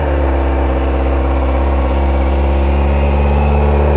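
Kawasaki ZX-4RR motorcycle engine idling after a cold start, a steady, even, close hum that holds constant throughout with no revving.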